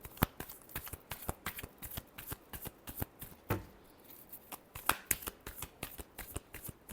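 Tarot cards are shuffled by hand in a quick series of sharp riffling snaps and soft slides, close and clear with no talking.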